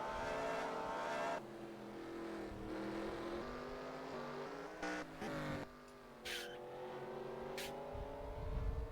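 Race cars in the NASCAR Racing 2003 video game, with engines droning and revving and shifting pitch as cars accelerate and pass, heard faintly throughout a street race.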